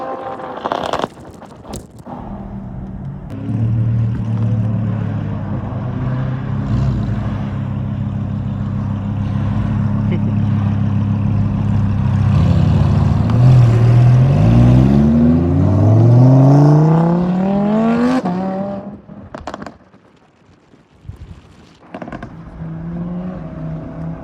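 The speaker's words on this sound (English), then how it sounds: "So hopefully we can catch these cars pulling off real quick." Cars pull away from a car meet, engines droning steadily and then revving hard through rising gear pulls, loud and close, before fading as they leave, with brief bursts of noise at the start and end.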